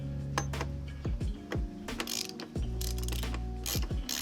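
Bike fork hardware being loosened during a fork oil seal and alignment job, giving close, loud mechanical ratcheting and clicking in short bursts, with a few sharp metallic taps alone and no talking.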